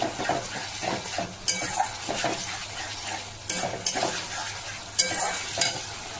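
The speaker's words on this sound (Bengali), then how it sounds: "সোয়া সস আর একটু হচ্ছে টমেটো সস দিয়ে আমি পেঁয়াজটাকে ভালো করে সুন্দর করে কষে নিচ্ছি" Onions fry in a pan with soy sauce and tomato sauce, a steady sizzle broken by repeated stirring scrapes and occasional sharp utensil knocks against the pan; close and alone, with no talking.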